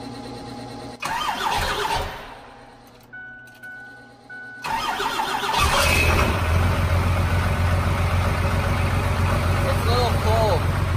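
A vehicle engine in cold weather cranks and catches after a short pause, then settles into a steady, fairly loud idle that continues to the end, with a faint beep during the quiet gap.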